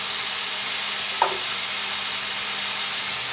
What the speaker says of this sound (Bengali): একটু গোল্ডেন কালার করে ভাজি করবেন। এখন আমি দিয়ে দেব কাঁকরোলগুলা।